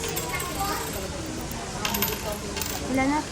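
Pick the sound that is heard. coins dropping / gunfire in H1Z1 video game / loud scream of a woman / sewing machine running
coins dropping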